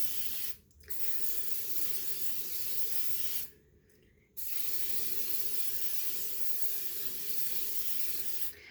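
Spray can hissing close by in a long steady burst, broken by two brief pauses before the spraying resumes.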